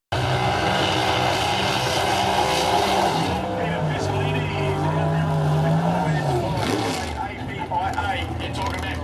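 Drag racing car with a 509 cubic inch Hemi engine roars loudly down the strip, a sustained high-powered engine blast that rises in pitch and then fades, with an announcer talking over it.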